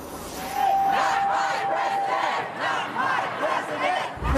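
A large protest crowd in a US city after the 2016 presidential election chants against Donald Trump in loud rhythmic unison, voices rising and falling in repeated bursts.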